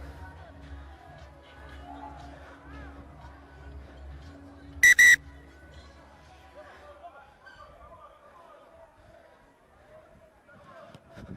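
A sharp referee's whistle cuts in with a brief double blast at a Kenya versus Uganda rugby sevens cup final, loud against a commentator's voice and distant crowd murmur.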